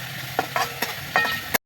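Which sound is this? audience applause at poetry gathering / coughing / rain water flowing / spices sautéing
spices sautéing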